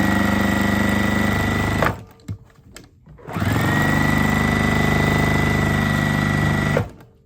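Juki TL industrial sewing machine running with its bottom cover off, two loud sustained bursts of fast whirring stitching separated by a brief pause, no talk.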